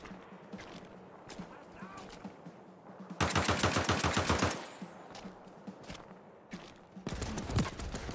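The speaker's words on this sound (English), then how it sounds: "Oh, machine gun." Machine gun fire in Land of War, a 1939 German invasion of Poland battle: two loud, rapid bursts of automatic fire stand out over quieter battlefield noise and scattered distant shots.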